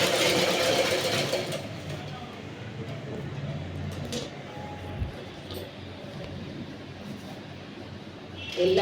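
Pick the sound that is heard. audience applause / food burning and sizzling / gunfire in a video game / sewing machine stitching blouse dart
sewing machine stitching blouse dart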